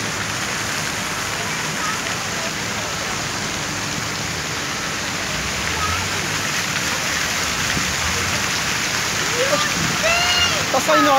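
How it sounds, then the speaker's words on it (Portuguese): Water pours steadily from a horse statue fountain in downtown São Paulo, a continuous splashing rush with voices talking faintly over it. "Tá saindo a água da frente do cavalo"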